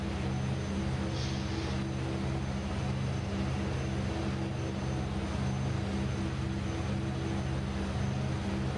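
Propeller airplane cruising over the ocean in a flight simulator set in the Bahamas, a constant droning engine hum with steady harmonic tones that stays even and loud from start to finish.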